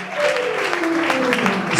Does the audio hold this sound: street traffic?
no